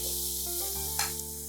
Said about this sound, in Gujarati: હવે આપણે રીંગણ એડ કરીશું.